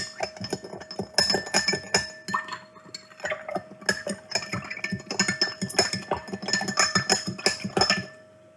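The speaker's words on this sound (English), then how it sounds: "you need to grab a spoon and start mixing" A spoon stirs lemonade in a glass, producing rapid, bright clinks and ringing taps against the glass in a quick continuous rhythm, close and fairly loud, with no talking.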